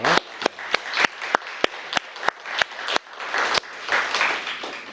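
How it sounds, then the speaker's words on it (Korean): Church congregation applauding during a Sunday worship service, a burst of clapping punctuated by sharp individual claps, fairly close and steady for several seconds with no voices over it. "하나님께 영광의 박수를 드립니다."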